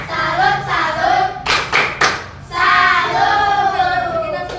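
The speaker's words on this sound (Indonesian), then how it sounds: "Yuk kita kasih tepuk tangan dulu." A third-grade primary school class claps in a short rhythmic burst of a few sharp hand claps, surrounded by children's voices chanting together in unison before and after.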